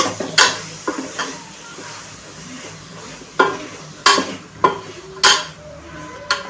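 A ground paste of onion, coconut, ginger, garlic and coriander is sautéed in a pan, with repeated sharp spoon scrapes and knocks against the metal over a faint sizzle and a low background murmur.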